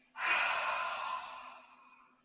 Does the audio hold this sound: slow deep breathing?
yes